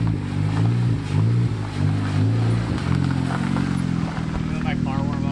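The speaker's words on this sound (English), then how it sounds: "Let my car warm up." A 2014 Honda Civic Si coupe engine idles while warming up after a transmission replacement, a steady low hum running continuously under close-up conversation.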